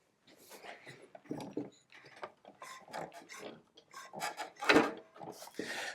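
Milwaukee M18 Fuel 305mm double-bevel mitre saw being tilted over, giving close clicks, ratcheting and mechanical clunks with irregular rattles and one sharper knock near the end.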